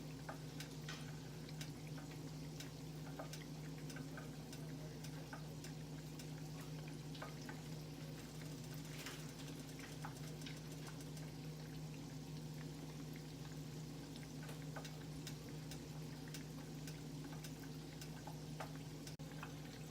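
Butter sizzles and fries steadily in a hot pan for a gourmet hot dog recipe, a constant close crackle with scattered pops and a low hum underneath, no talking.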